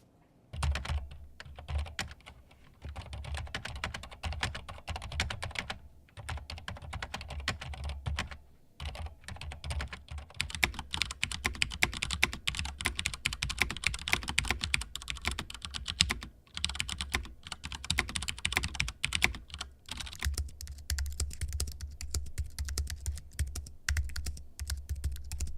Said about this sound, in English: what about the MX board Silent as a keyboard?